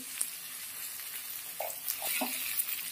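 Mixed vegetables with turmeric and salt fry in a pan for a thin Bengali fish curry, a steady close sizzle broken by a few soft spatula stirs and scrapes.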